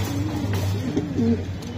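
Racing pigeons cooing nearby, a few soft low throaty coos in quick succession over a steady background hum, with no talking.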